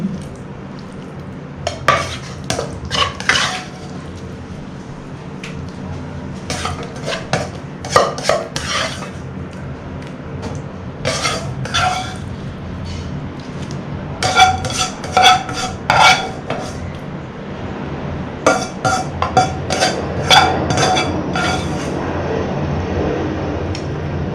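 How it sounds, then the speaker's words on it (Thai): A utensil scrapes and clinks against a pan and plate in repeated bursts while stir-fried stink beans with shrimp are spooned out, close and busy, with a low background hum throughout. "ตักใส่จานพร้อมเสิร์ฟ"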